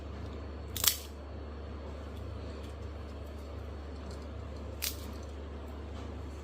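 Homemade khari biscuits snap apart in two sharp, dry crunches, one early and one a few seconds later, with near silence around them.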